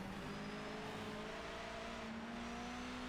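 Race car engine in the video game Project Motor Racing, pulling hard under load with a steady, close, droning roar whose pitch climbs slowly as it accelerates, with no voices.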